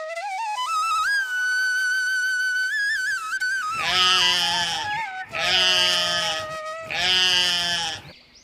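A pet goat bleats loudly and close by. One long wavering call is followed by three strong, rhythmic bleats with short gaps between them.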